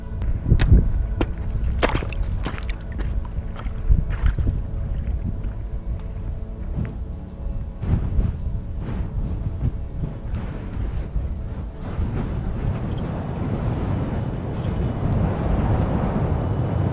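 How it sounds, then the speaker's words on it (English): Strong wind roars across a Peak District hilltop with a constant low rumble, buffeting gusts and sharp flaps and cracks at the start, growing heavier toward the end. "it's way too windy at the moment"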